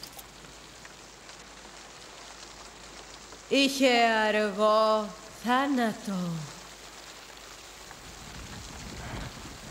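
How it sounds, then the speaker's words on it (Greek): Steady rainfall, a constant hiss of drops on surfaces, moderately loud and even throughout, with a voice speaking over it midway. "Βλέπω ότι ο Βαάλ μας έστειλε βροχή."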